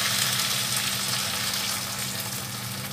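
Water poured into a hot pan with sesame oil sizzles loudly and steadily, a dense close hiss with a low bubbling rumble that holds without pause, no voices.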